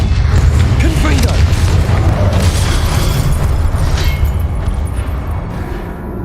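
Explosive Confringo spell in Hogwarts Legacy, a heavy booming blast with rumbling burst and lingering debris roar, loud and sustained over several seconds amid game noise.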